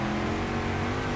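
A car engine in the BeamNG.Drive driving game drones loud and steady with a strong harmonic hum, holding at high revs through a brief moment.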